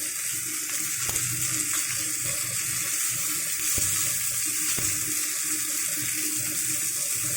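Panch phoron spices hitting hot oil beside a fish head in a pan, a steady close sizzle with a few faint clicks and taps throughout.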